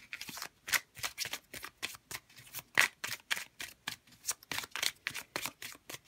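Tarot cards shuffled in a rapid run of crisp riffling slaps, about three per second, close and fairly loud with no voices over them.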